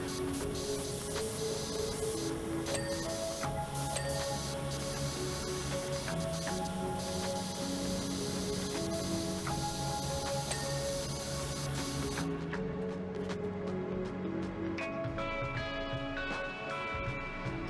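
A pressure washer sprays in a steady, hissing stream in the video game Powerwash Simulator 2, running continuously under game music at a moderate level.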